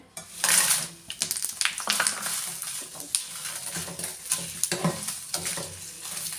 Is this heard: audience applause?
no